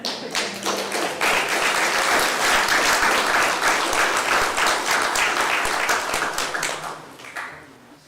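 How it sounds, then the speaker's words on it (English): Audience applause at a town council meeting, a dense steady round of many hands clapping that swells quickly, holds for several seconds and then fades away. "folks can clap."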